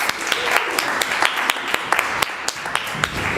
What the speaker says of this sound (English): We're going to welcome our improvisers back to the stage with a round of applause.